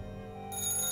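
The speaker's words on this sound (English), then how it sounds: "Alright, the phone should ring soon." A telephone rings in the video game Joseph Stalin Simulator: a short electronic ring breaks in halfway through over a steady low hum.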